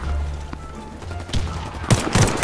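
An H&K MP5 in Warface fires in scattered bursts of gunshots that pick up toward the end, over low background rumble.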